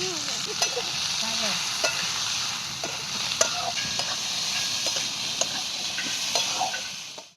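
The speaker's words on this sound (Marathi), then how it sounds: "थोडासा तेलाचा टिपका टाकून मी चांगला कांदा भाजून घेणार आहे" Onion roasting in a little oil for prawn curry over a wood-fired stove: a continuous close sizzle broken by regular scraping stirs of the spatula, with no talk.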